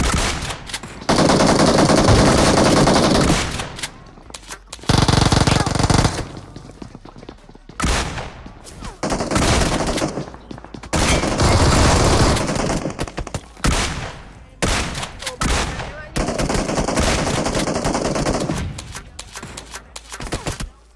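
Loud gunfire in a mobile battle royale shooter during a squad fight around buildings: long bursts of rapid automatic fire broken by short pauses, heavy and continuous.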